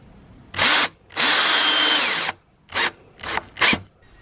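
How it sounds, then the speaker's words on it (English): A cordless power drill drives screws for L brackets and lids in a van build: one short whir, a longer sustained run, then three brief bursts, close and loud with quiet gaps between. "I just finished screwing in all of the lids that I had"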